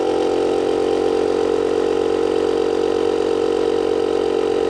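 A portable electric tire inflator for a Rad Power RadRunner e-bike runs steadily at close range, a loud continuous motor drone with no talk over it.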